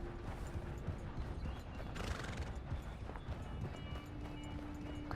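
A horse in Red Dead Redemption 2 trots with rhythmic clip-clop hooves, faint and steady, with a brief whinny or rustle partway through over quiet game ambience.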